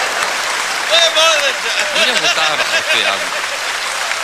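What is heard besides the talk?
audience applause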